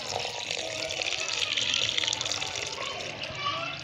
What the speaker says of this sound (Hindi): पानी डाल देंगे इसके अंदर।